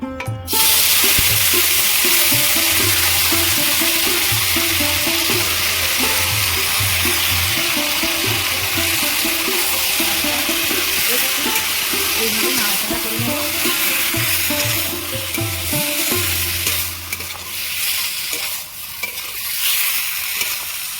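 Marinated mourola fish frying in hot mustard oil: a loud, dense, continuous sizzle and crackle that barely wavers for about twenty seconds, heard up close with no voices.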